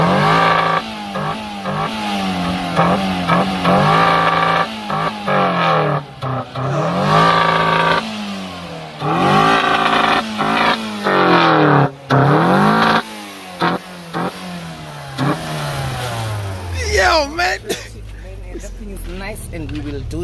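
A VW Mk1 Golf GTI engine revs loudly and close by in repeated rising bursts, with short drops between throttle blips and a final sharp climb; people's voices come through around the revs.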